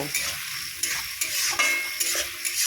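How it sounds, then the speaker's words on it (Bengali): A spatula stirs curry with ginger-garlic paste and chili paste in a hot pan, rhythmic scraping strokes roughly every half second over a continuous close sizzle, with no voices. "এবারে দিয়ে দেব লঙ্কা বাটা সব একসঙ্গে দিয়ে নেড়ে চেড়ে নেব"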